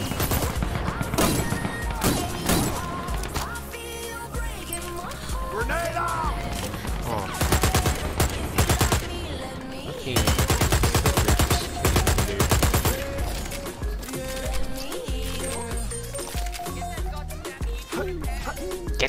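Rapid gunfire from a balanced gun in the first-person shooter Dirty Bomb, dense bursts repeating through the whole stretch over game music and effects, loud and close.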